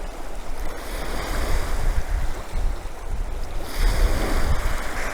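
Ocean waves wash onto a beach in a continuous broad roar with rising and falling surges, strong and close, mixed with wind buffeting the microphone.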